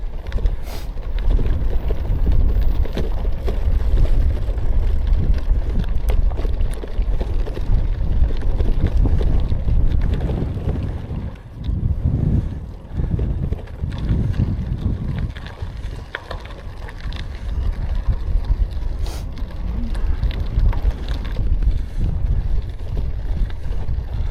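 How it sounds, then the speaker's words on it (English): Strong wind buffets the microphone in a continuous low roar, gusting harder and easing at moments throughout. "It's damn well windy."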